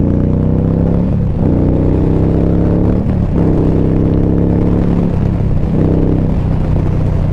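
An Indian Scout motorcycle engine drones under load while riding, a loud low harmonic rumble that rises in pitch, drops at gear shifts and climbs again several times.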